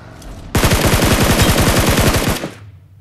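Sustained rapid automatic gunfire in the BGMI mobile battle royale game, a loud, dense burst lasting about two seconds while an enemy is killed, alone with no talk.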